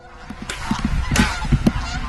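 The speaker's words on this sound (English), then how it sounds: "a flock of geese appear directly overhead" A flock of geese honks repeatedly overhead in a noisy overlapping chorus, fairly loud and close, over a background of rustling.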